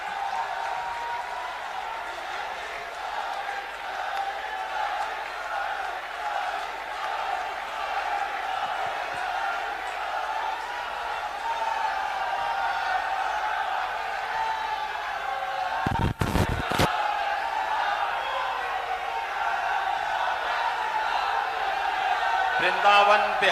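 A large crowd applauds loudly at a rally in Vrindavan for Uttar Pradesh Chief Minister Yogi Adityanath during the Brajraj Utsav 2021 opening, a steady dense roar of clapping with a sharp clatter partway through.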